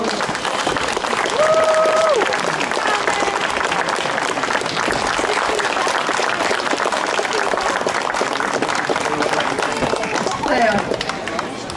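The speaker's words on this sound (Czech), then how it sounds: "Já myslím, že oni si zaslouží větší potlesk." Sustained applause for children's performers at a harvest festival show in Kroměříž, a full crowd clapping loudly and steadily, with short whistle-like tones and some talk mixed in.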